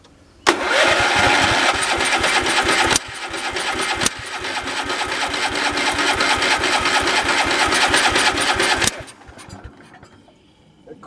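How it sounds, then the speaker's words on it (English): A gas engine on a wood-splitting setup starts up after a sharp pull, then runs loud and close with a rough, steady chug for several seconds before cutting out. "Let's see if it'll start up now."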